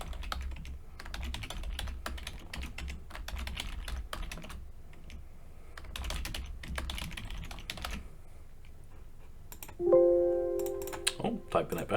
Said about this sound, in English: type in that password correctly